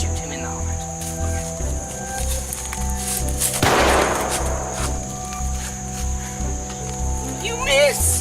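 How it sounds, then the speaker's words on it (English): A rifle shot cracks out once in mid-clip, a sharp loud burst in a busy outdoor game scene with a steady insect-like buzz and voices around it. "Take this strong rifle and shoot him in the heart."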